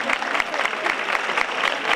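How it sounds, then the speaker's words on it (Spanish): Applause from the crowd at an Izquierda Unida political rally in Alcalá del Río, a steady two-second spell of dense clapping at even volume with no talk over it. "Aprovecharé el aplauso por él."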